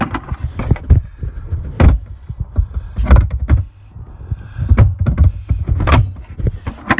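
A battery being seated in a Toro 20363 battery-powered lawn mower and its hood closed: a few separate plastic clunks and thumps spaced a second or two apart, close by, with quiet handling noise between.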